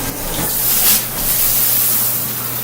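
A household shower runs with hot and cold water in a bathroom with hard-water buildup, giving a steady, close broadband hiss of spraying water that barely changes across the clip, with no voices.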